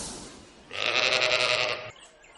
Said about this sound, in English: Magic sheep to fight off the magic snake.